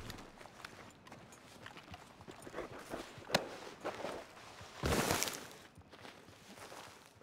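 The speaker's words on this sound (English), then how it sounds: "This horse stinks." A horse's hooves clip-clop at a walking pace in the video game Red Dead Redemption 2, making a steady run of soft, close steps with a louder rustling burst partway through.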